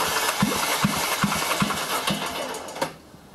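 An Audi 1.8 CDHA engine cranks over during a compression test with a rhythmic chugging, about six even compression pulses, loud and close, before it stops.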